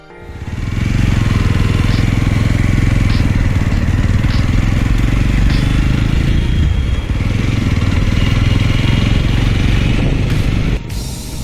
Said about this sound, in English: here is the exhaust note of the vehicle